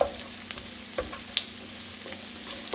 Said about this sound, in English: I always start with my onion because I like a good caramelized onion.